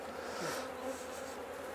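Honey bees buzzing around an open Langstroth hive during an inspection, a close, steady hum of many wings with shifting pitch.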